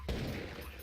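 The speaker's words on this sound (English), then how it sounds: "Nice headshots coming in both with that AK" Rapid AK rifle fire in a Counter-Strike match at a LAN tournament, a brief loud burst of shots with a dense low-end thump that stays sustained across the short moment.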